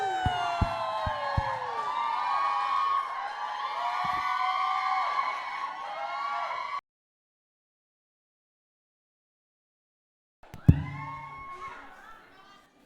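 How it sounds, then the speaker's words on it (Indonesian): Cheering and whooping from a crowd at a Christmas Eve church service, loud and continuous with voices mixed in, then breaking off into silence before a short burst of further noise. "Beri tepuk tangan."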